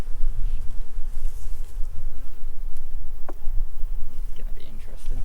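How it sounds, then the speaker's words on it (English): Wasps buzz steadily around a honey super on a beehive, a close and loud insect drone that runs the whole time. "Oh, the wasp just fell."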